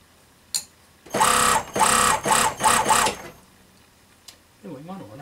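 A sewing machine stitches a shadow fox fur stole in loud bursts, about four runs of a few fractions of a second each, close by, followed by brief speech near the end.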